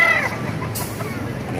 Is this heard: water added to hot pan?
no